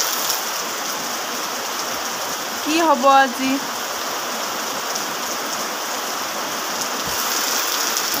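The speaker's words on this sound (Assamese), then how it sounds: "এনেকুৱা বৰষুণ দি থাকিলে ভাল নালাগে অকণমান।" Rain pattering on a road in a continuous, moderately loud hiss, with a short spoken phrase rising over it partway through.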